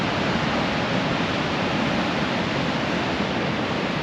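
Surf of the Great Southern Ocean near Murphy's Haystacks, a steady, full roar of breaking waves that stays loud and unbroken throughout.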